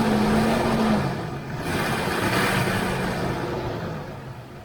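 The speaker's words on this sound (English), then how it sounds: "But let's go ahead and rev it up real quick." A Jeep XJ engine idling nearby with a steady, rough drone that swells a little in a brief rev, then settles back, heard alone and fairly loud throughout.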